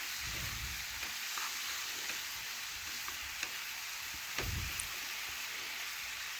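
A spice mixture being stirred in a hot pan, soft scraping strokes over a low continuous sizzle, with a couple of louder stirring scrapes standing out.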